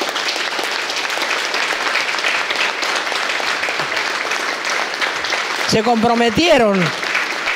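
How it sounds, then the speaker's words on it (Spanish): A crowd at a university event for the Mothers of the Plaza gives loud, sustained applause for workers. The clapping is steady throughout, and near the end a voice speaks over it. "Yo pido un aplauso para esos trabajadores."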